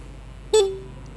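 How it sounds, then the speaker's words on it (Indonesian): A 2021 Honda CBR150R horn gives one short, loud beep that cuts off quickly and leaves a brief fading tail, heard close and alone. "Coba kita dengarkan suara klaksonnya."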